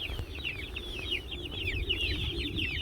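Chicks in a chicken tractor chirp and cheep constantly, a busy overlapping chorus of high peeps close by with a low background hum.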